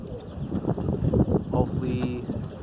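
Roller pigeons in a loft give soft, low cooing calls, several overlapping burbles close by, with a faint higher whistle-like tone toward the end and some rustling in the background.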